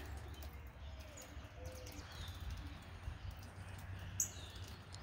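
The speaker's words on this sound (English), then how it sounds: "So we got lots of birds here." Outdoor backyard bird feeder in the rain with pigeons or doves cooing and small birds chirping now and then over a steady low rumble of rain and ambient noise, one sharper chirp standing out near the end.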